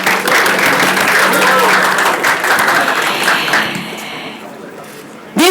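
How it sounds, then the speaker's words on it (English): Fans at the launch event of a cricket legend's app break into loud, sustained applause with cheering, tapering off near the end before a brief burst of talk. "So how about a big round of applause for all of you?"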